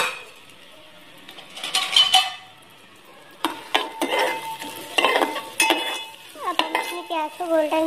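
Onion goes into hot oil already holding cumin seeds, and a burst of sizzling follows with a spoon clinking and scraping against the pan in uneven strokes.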